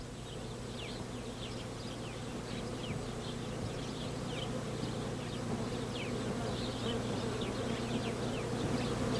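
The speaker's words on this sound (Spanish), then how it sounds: "Muy cerca de estos árboles nos encontramos con una fantástica colonia de abejas que viven apegadas al suelo." A steady hum of many ground-nesting bees from a colony buzzing close to the ground in the Atacama Desert, with individual insects zipping past over a constant outdoor drone.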